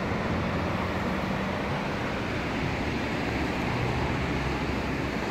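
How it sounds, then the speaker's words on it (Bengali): Water flowing by a quiet mountain road in Bhutan makes a continuous broadband rush, steady and fairly loud, without pauses or distinct splashes, filling the whole stretch. "জলের শব্দ, ওরে বাবা।"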